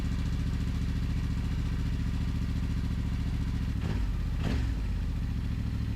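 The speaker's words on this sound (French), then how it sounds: "je n'ai plus qu'à démarrer la moto et la faire chauffer quelques secondes." A Yamaha Ténéré 700 motorcycle engine starts and warms up, idling steadily and loudly nearby, throbbing evenly, with a brief clatter or blip partway through.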